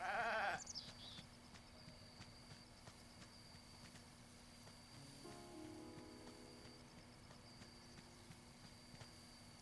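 Goats in Zelda: Breath of the Wild give a loud, close bleat at the start, followed by quieter game ambience and soft tonal effects.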